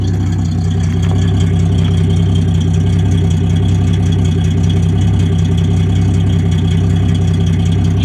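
A 1965 Plymouth Valiant engine idles with a deep, steady rumble, raw and unmuffled with no exhaust from the muffler back, running evenly throughout with no talking.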